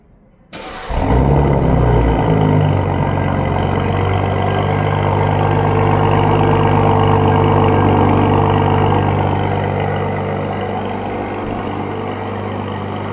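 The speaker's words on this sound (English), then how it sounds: "we can definitely do a remote engine start, cold start" A 2026 BMW M340i xDrive with an M Performance muffler cold-starts by remote: a sudden crank and loud flare, then a steady, high, rumbling idle that eases slightly toward the end, heard close with no talk.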